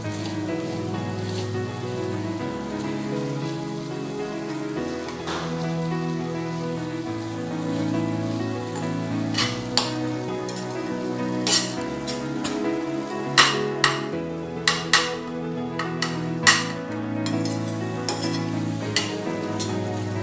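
Masala simmers under a lid in a pan before chicken is added, a low continuous bubbling sizzle with scattered sharp pops and ticks growing more frequent toward the end.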